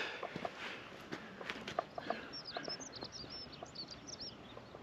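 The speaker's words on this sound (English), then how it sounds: "In the background you can hear other people walking." Soft, scattered footsteps of people walking on a hill path along the Great Ridge near Mam Tor, faint and somewhat distant, with birds chirping high in the background.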